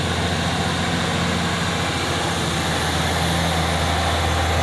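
Hino trucks on a hill road at Bukit Kodok, heard as a steady, loud low engine drone with broadband road rumble, continuous and without any talk.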